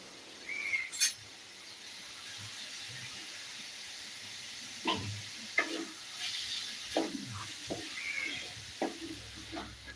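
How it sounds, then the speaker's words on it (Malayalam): A beetroot dish with salt added is stirred in a pan, giving scattered scraping and clinking strokes over a faint steady sizzle, with busier bursts of stirring around the middle and later on and no voices. "നമുക്ക് നന്നായിട്ട് ഇളക്കി കൊടുക്കാം നമ്മൾ ഉപ്പ് ഒഴിച്ച് കൊടുത്തിട്ടുണ്ട് കേട്ടോ"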